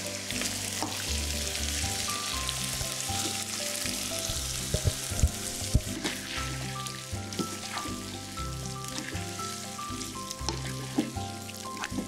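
Marinated beef frying with tomato and green chili for a beef biryani: a steady, dense sizzle and crackle with occasional stirring clatter and sharp pops, close and continuous without any talk.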